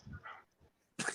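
A dog barks faintly a few times in a quiet room, short soft yips followed by one sharper, louder bark at the end.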